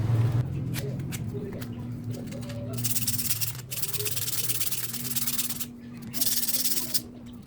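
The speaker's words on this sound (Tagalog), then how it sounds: "gamit tayo ng liha guys para malinisan tong ating" Rhythmic, scratchy rubbing of sandpaper on front-wheel brake parts of a Yamaha Aerox scooter, in bursts of strokes, close by, with brief pauses between passes.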